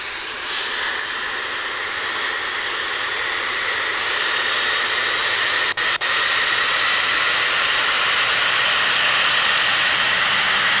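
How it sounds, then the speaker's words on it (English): An airliner jet engine spools up during engine start in the Infinite Flight simulator, a steady loud roaring hiss with a high whine that holds and slowly builds, two brief dropouts midway, no talking. "The engine is firing."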